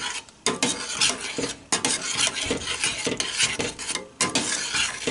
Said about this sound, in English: Mix in your cornstarch and then you stir for 3 to 4 minutes.